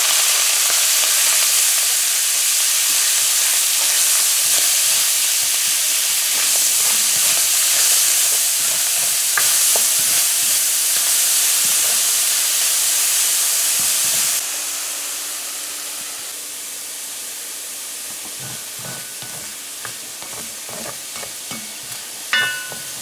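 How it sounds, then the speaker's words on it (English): Shrimp sizzles loudly in hot oil, a dense continuous hiss that softens partway through, with occasional clinks of a utensil. "So our oil is hot, and we're going to add our shrimp now. So you want to fry this here"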